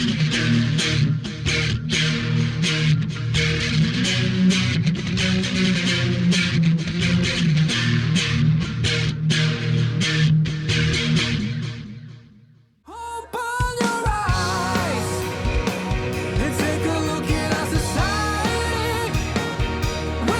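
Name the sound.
guitar with compressor, B7K overdrive, Mobius chorus, H9 analog delay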